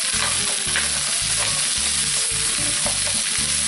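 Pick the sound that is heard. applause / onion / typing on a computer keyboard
onion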